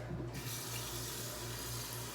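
Tap water running steadily into a saucepan being filled for a double boiler in a home kitchen, a continuous close splashing stream with a low hum underneath.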